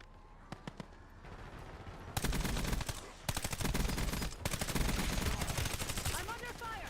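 Gunfire in a Warzone-style shooter, from scattered single shots to dense, loud bursts of rapid automatic fire with brief pauses between volleys.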